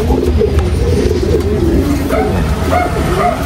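Several pigeons coo continuously at close range, their soft rolling calls overlapping in a steady murmur.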